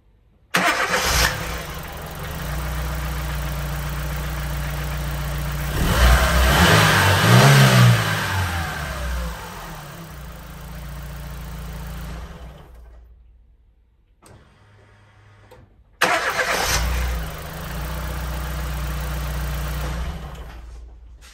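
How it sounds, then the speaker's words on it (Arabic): A car engine cranks and starts, then revs up and settles to a steady idle before shutting off; after a pause of silence it starts again, loud and close. "سأحاول تشغيل السيارة الآن، كيف تشتغل بشكل جيد."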